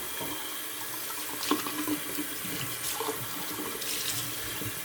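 Tap water runs steadily into a sink as hands are rinsed, a soft continuous splashing wash at close range with no talk.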